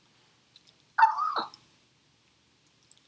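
A dog gives one short, loud bark-whimper close by in a quiet room, followed by a few faint small knocks.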